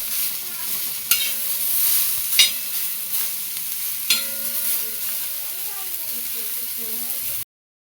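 Tomatoes and green chillies roasting in a pan, a steady close sizzle with a few sharp spatula scrapes and knocks, and a voice speaking briefly toward the end before it cuts off.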